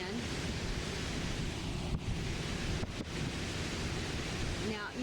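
Strong storm wind during a flooding event at Colonial Beach, Virginia, near the boat ramp and Monroe Bay Avenue, buffets the microphone in a steady, loud roaring rush that carries on without a break.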